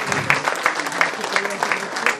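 Audience applause at a saree festival, a steady round of clapping from a crowd with rhythmic peaks, with a voice audible underneath.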